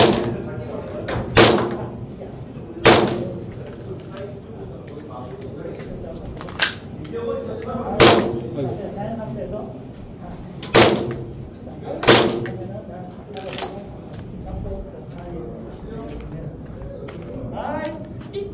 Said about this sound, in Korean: 한 번 더 쏠게요.